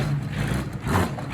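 A Yamaha Banshee engine idles with a low, steady rumble that stumbles and bogs from a carburetor not fully set, continuous and close throughout.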